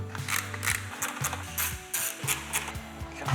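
A ratchet loosens a panel on an Aprilia Tuareg 660 motorcycle, giving repeated close clicking bursts with short pauses between strokes and no talk.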